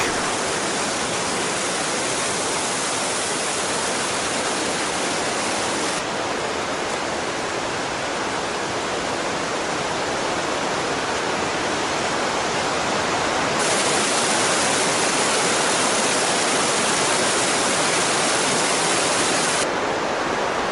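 Summit Creek, a mountain creek in Nelson Lakes National Park, rushes beneath a bridge in a steady, loud, continuous wash of water that stays even throughout, with no voices.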